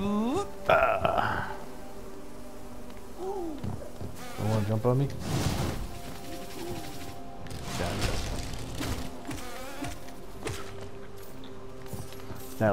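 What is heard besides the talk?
buzzing bees from the Hollow Knight video game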